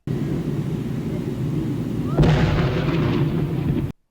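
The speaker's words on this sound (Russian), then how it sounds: "Да, взрыв произошел." A dynamite blast booms out about halfway through, a sudden loud burst that cuts into a steady low rumble and leaves dense crackling noise until an abrupt stop.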